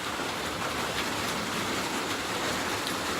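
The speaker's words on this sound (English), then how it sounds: "it rained nonstop, and it's still raining" Rain falls nonstop at Thunder Hill Shelter on the Appalachian Trail, a dense continuous hiss of drops on surfaces with occasional louder taps, no voices.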